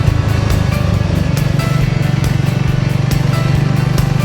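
Motorcycle riding a forest trail on the Ohio Adventure Trail, a loud, steady, close engine drone with a rapid pulsing exhaust throb throughout.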